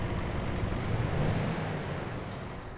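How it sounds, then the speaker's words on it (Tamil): A truck in Euro Truck Simulator 2 idles at a steady, muffled diesel rumble with a faint high whine above it. A short hiss of air near the end may be an air brake. "வண்டியை ஸ்டார்ட் பண்ணிட்டோம்."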